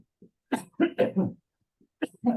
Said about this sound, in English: I got a bit of a cough here going on.